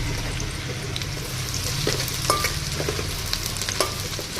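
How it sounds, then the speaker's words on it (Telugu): Grated coconut and poppy seeds frying in a generous amount of peanut oil for a potato curry, a dense continuous sizzle and bubbling with occasional spoon scrapes and clinks, close and loud, no voices. "మసాలా కర్రీకి ఏంటంటే కొబ్బరి గసాలు వేస్తాం కదా, అది బాగా నూనెలో వేయాలి"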